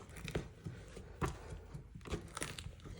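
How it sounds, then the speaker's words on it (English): Foam in the sole of an Air Jordan 1 High crunches and crinkles as the sole is pried away after acetone, a series of close, irregular crackling bursts with brief pauses between them. "that's what you want to hear, that crunching sound"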